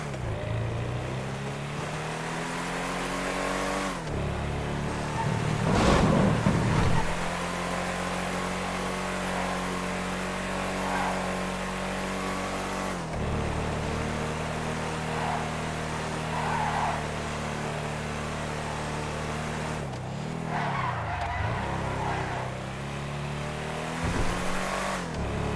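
The Streetster, a four-door car in a video game, on a test drive: a loud, steady engine drone that swells and falls as it revs and shifts, with short surges partway through and no talking.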